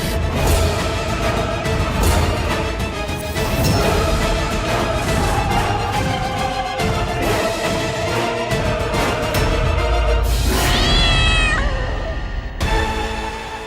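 A cat meows over a dense, continuous background of music and drama-scene sound in a Hindi TV serial, the calls fairly clear but partly blended into the loud mix rather than heard alone.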